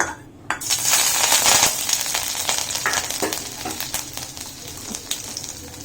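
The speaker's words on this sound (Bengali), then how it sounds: "তেল গরম হয়ে গেছে, এতে কাঁচা লঙ্কা আর একটু আদা কুচি অ্যাড করে দেব।" Green chilli and chopped ginger dropped into hot oil, bursting into a loud close sizzle that gradually settles into steady crackling, with a few spoon clinks against the pan.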